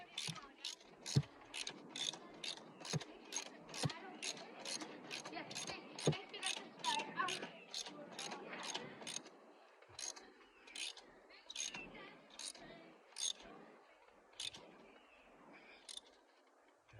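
A ratchet wrench tightens a car spark plug, giving a long series of crisp, evenly spaced clicks in bursts of back-and-forth strokes, close and fairly quiet, with faint mechanical rustle between them.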